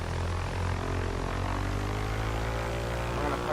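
A Cessna 172 propeller engine drones steadily in the X-Plane 11 flight simulator while flying near Mt. Everest, a constant loud hum with a low throb and no break.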